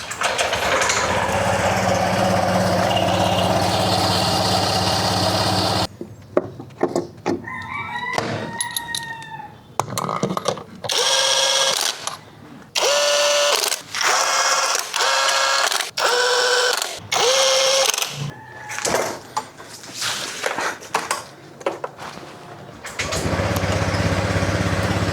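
A Honda Click 125 scooter, fitted with a 14° pulley and 1K center spring, revs in repeated bursts, its small engine rising and falling in pitch with short pauses between throttle blips.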